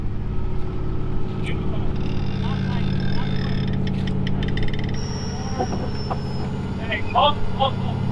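An old Ford tow truck pulling a stuck box van out of mud, its engine grinding out a loud, steady low rumble throughout, with people talking over it and a faint hiss partway through.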